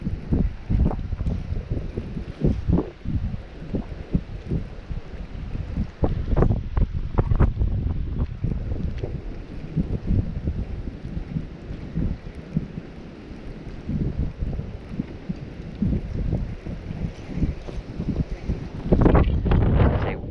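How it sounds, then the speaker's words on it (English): Gusty wind blows across a bass fishing pond on a windy day, buffeting the microphone with steady, rumbling bursts close and loud, with no talk. "Windy day out here."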